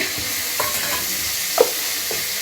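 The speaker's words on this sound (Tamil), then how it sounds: "எண்ணெய் ஊற்றி நல்லா வதக்கிடுங்க மிளகு பட்டை கருவேப்பிலை சோம்பு தக்காளி" Pepper, cinnamon, curry leaves, fennel and tomato sauté in hot oil for a home-style chicken curry, a loud continuous sizzle with soft spoon stirs and scrapes, close up and without talk.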